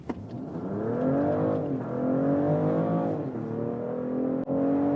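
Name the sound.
BMW X5 plug-in hybrid accelerating hard in sport mode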